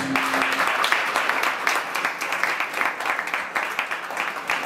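A wedding congregation inside a church applauds, dense, sustained clapping from many hands filling the room, with some voices mixed in.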